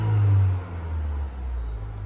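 Engine of a 2023 Chevy Colorado revving as the accelerator pedal is pressed, a loud low roar that swells early, then eases into a steadier, quieter hum.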